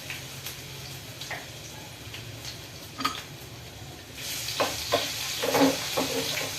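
Cumin and mustard seeds sizzle and crackle in hot oil for a jackfruit seed curry, a steady faint hiss that swells louder halfway through with scattered sharp pops.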